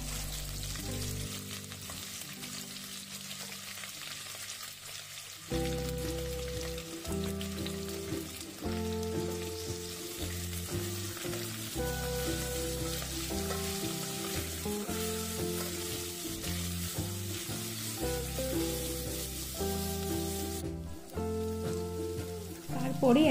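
Chopped vegetables hit hot oil with dried chili and cumin and sizzle loudly and continuously, with crackling frying that builds after a quieter start and a brief burst near the end.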